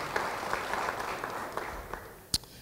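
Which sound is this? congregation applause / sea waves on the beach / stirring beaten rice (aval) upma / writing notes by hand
congregation applause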